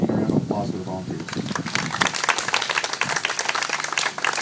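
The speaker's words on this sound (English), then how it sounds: "Please join me in a round of applause for the volunteers." At a tree planting celebration, a speaker's voice at the start gives way to a round of audience applause for volunteers, crisp, fairly close clapping from a modest outdoor crowd that continues to the end.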